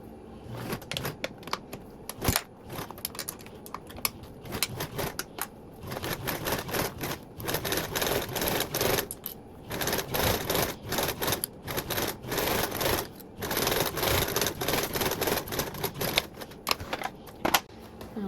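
A sewing machine top stitches a thick tote bag strap at an eighth-inch seam allowance, running in long rapid bursts of clattering needle strokes with brief pauses between runs.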